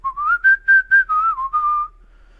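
A single person whistles a short tune, the Lion King melody, in clear, close, loud phrases, about seven notes rising and then falling, with no voices.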